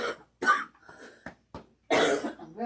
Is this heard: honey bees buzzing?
no